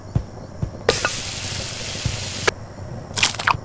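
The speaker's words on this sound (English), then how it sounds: "Now we're gonna do a fried egg, which is obviously an egg in the pan." Egg frying in a pan in the video game Yeeps: Hide and Seek, a steady broadband sizzle lasting a couple of seconds with a few sharp clicks and crackles at the start and end.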